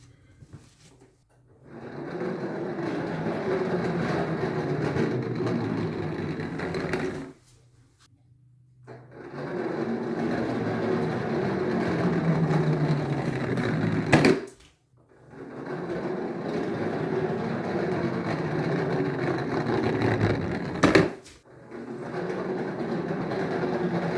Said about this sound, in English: So, rubber band powered tub of chocolates with matching wheels, funnily enough.